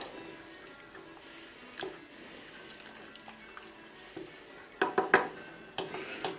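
A spoon stirring minestrone soup made with chopped vegetables, tinned tomatoes, pesto and mustard in a pot, soft scraping at first, then a cluster of louder metallic clinks and knocks near the end, no voices.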